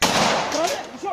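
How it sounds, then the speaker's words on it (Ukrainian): A gunshot or burst of gunfire during a clash between border guards and villagers at a border, heard as a sharp crack at the start of a short, noisy stretch with voices shouting under it. "Словесна сутичка переросла у стрілянину."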